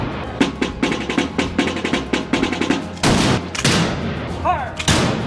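Historical muskets fired during a demonstration at the Alamo in San Antonio, a rapid series of loud sharp cracks followed by heavier booming reports with echoing tails, and voices mixed in.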